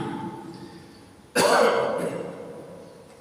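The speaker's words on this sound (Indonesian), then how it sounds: "aku agak batuk dikit." A single close, sharp cough breaks a quiet background, followed by a fading breathy rasp and a hint of another cough at the end.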